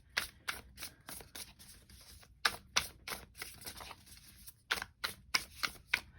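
Quiet, crisp bursts of tarot cards being shuffled, repeated riffles and taps in an uneven rhythm, close by with no talking.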